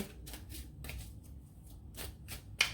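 Tarot cards shuffle in repeated soft riffling bursts, close and quiet, ending in a sharper snap of cards, with no voices.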